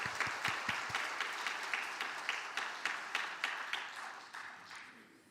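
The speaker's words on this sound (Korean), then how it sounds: "이 귀한 찬양을 받으신 우리 하나님께 영광의 박수 올리겠습니다." A church congregation breaks into sustained applause, a dense wash of many hands with a faint rhythmic pulse, gradually fading; no voices.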